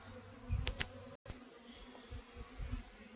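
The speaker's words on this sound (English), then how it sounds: "There's lots of bees in the bottom here." Honey bees from a Saskatraz nuc hive buzz steadily close by on a warm day, a continuous hum with a few louder passes near the listener and no talking.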